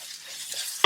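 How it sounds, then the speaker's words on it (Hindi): Dry spice mix for tawa burger filling is stirred in a pan with soft scraping and light shuffling strokes, quiet and continuous, ending in a sharp louder clink at the close; no talking. "तो अच्छे से मिक्स कर रही हूँ"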